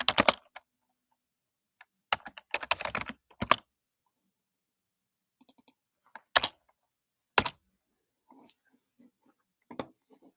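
Irregular bursts of computer keyboard typing, close up, with clusters of rapid key clicks separated by quiet gaps and a few isolated taps, no talking.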